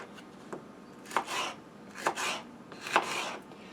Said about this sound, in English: The first way I do them is just to dice them up